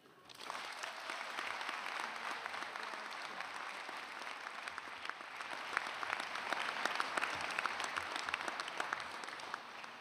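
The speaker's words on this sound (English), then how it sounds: "Please join me in a round of applause for this" A convocation audience at a dental school gives sustained applause for a faculty award, with steady crowd clapping filling the whole stretch at a moderate distance.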